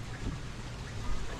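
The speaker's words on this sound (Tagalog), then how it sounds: "Diretso ang ulan eh." Steady heavy typhoon rain roars in a dense, continuous wash with a deep low rumble beneath it, in the Philippines.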